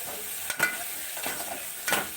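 Moong dal hits a hot pan for khichdi and sizzles steadily, with a few sharp stirring scrapes and clinks breaking through at intervals, close and moderately loud, no talking.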